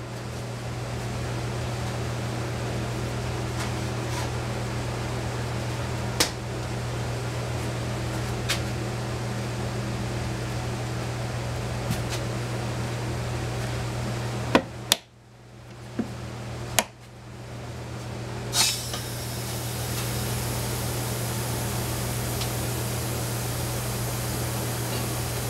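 Vacuum former pulling a Kydex sheet down onto a silicone membrane: a steady loud motor hum and hiss runs throughout, broken by a few clicks and a brief drop near the middle before the roar resumes.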